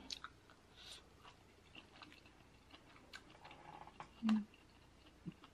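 Quiet, close chewing of crab-stuffed salmon with soft mouth clicks and small crunches at a low level, plus a brief murmur near the end.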